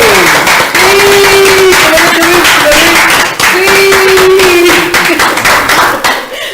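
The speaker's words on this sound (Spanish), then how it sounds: "¡Un aplauso!" A studio audience claps and cheers to welcome a guest onto a Spanish-language testimony show. The crisp, loud clapping runs throughout, with a sustained voice-like tone ringing over it.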